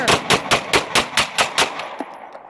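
Eight loud, close gunshots from 9mm Beretta pistols crack out in quick, even succession, then give way to a short, quiet tail.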